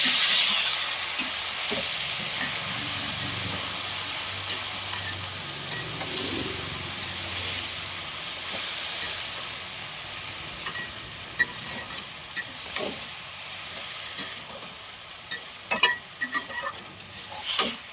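Red amaranth greens with turmeric frying in a pan, a soft steady sizzle and hiss with occasional light scrapes and clicks of stirring, fairly quiet and close, with no talking.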